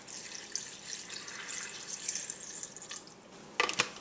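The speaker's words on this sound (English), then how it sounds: "Top off with filtered water." Filtered water pours into a blender jar over spinach, frozen banana and blueberries, a soft steady trickle with faint splashing and a couple of brighter clinks near the end, quiet and without speech.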